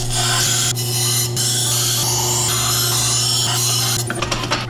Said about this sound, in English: Now I wanna put out a worn out 260 grit on here.